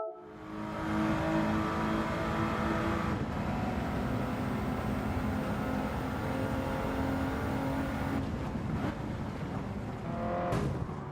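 Race car engine in a racing video game, a loud continuous drone with shifting harmonic tones as it revs and changes gear, with no talk over it.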